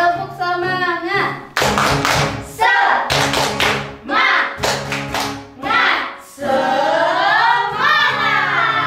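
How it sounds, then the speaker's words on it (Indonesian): Children at a Sunday school service do a rhythmic spirit clap, bursts of clapping alternating with chanting voices in a steady pattern, close and loud. "Oke, tepuk semangat."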